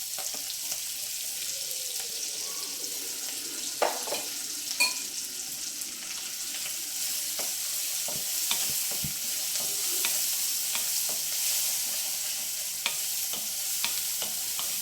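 Sliced onions, green chillies and curry leaves fry in a pan with a continuous hissing sizzle, broken by scattered clicks and scrapes of a spoon against the pan.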